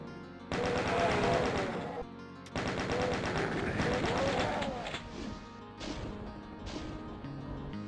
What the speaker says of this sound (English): Nothing says cheap like hit scan enemies with rapid fire.